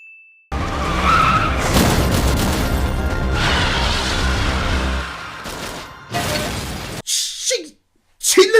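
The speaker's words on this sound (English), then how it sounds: "She literally kicked a car off the road" A car in an anime scene skids off the road as it is kicked away, giving a loud, sustained screech with crashing noise that runs for several seconds, then breaks off into shorter bursts and brief silence.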